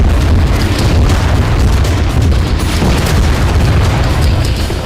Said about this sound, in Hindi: और हमास के लड़ाके उस पर इस तरह से रॉकेट बरसा रहे हैं।